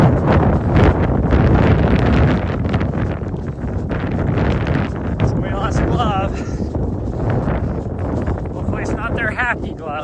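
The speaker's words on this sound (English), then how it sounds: "There's that wind." Wind gusts into the microphone on a trail run, a loud, constant rumbling buffet with faint rustling behind it.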